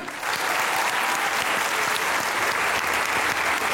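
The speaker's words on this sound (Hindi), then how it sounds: "आपकी भरपूर तालियों में सैयद सलमान गिलानी।" Loud, sustained applause from a crowd, steady clapping that swells in quickly and holds strong throughout.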